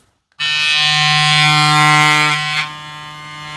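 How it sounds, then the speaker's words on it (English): A Wmark NG 9213 hair clipper with a magnetic motor switches on after a moment of silence and buzzes loudly and steadily up close, a harsh electric hum that dips slightly near the end. "I mean, it's a normal magnetic motor, but not a vector motor."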